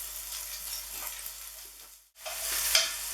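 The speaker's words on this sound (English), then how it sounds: "we'll just keep browning them on the bottom, just getting a nice kind of crispy brown coating to them" Lamb shanks browning in a pot, a steady close sizzle that briefly drops out for a moment, then returns louder with crackling spits.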